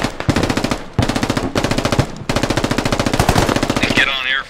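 Repeated machine gun bursts from the military shooter Squad, loud and close, several rapid strings of shots separated by brief pauses, ending with a short electronic warble.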